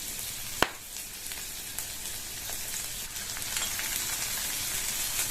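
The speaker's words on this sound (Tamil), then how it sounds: "இதை இந்த மாதிரி ஒரு தடவை வதக்கி விட்டுட்டு இது கூட 3 பச்சை மிளகாய் சேர்க்கிறேன்" Shallots, garlic and green chillies sizzle steadily in a hot pan, a dense close frying hiss broken by one sharp clack near the start and a few lighter spatula taps.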